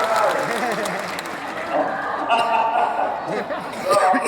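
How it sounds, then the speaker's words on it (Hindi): Crowd clapping for a local MLA at a Madhya Pradesh government event, with steady applause mixed with cheers and some chuckles, loud and continuous throughout. "जरा विधायक के लिए भी ताली हो जाए भाई"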